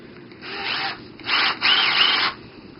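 A power drill whirs in three short bursts, starting and stopping, with the last burst longer; nearby and fairly loud, no talking.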